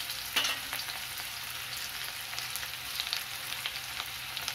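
Onions fry in a pan for masala pasta, giving a steady, close sizzle with a few faint stirring clicks, and no one speaks.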